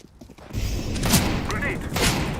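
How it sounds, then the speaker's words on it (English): A grenade thrown and exploding in CS:GO, with a burst of blast and gunfire-like thuds that swells after a brief quiet start, then a second loud hit near the end. "I'm throwing a grenade."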